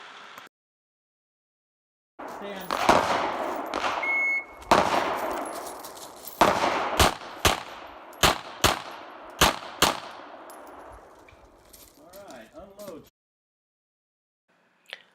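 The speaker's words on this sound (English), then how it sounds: "The course of fire is to engage targets when they become visible from points of cover with 2 rounds each." Pistol shots ring out on an IDPA practical shooting course, two rounds per target, as a series of sharp, loud cracks spaced in pairs with brief pauses, ending in near silence.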